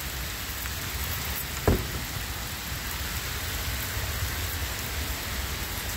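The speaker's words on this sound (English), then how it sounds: "We got rain in Chicago." Rain storm at a Chicago playground: a constant, even hiss of heavy rainfall on surfaces, with a single sharp knock or thud near the start of the second half.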